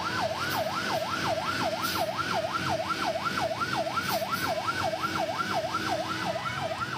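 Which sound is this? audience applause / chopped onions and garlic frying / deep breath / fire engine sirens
fire engine sirens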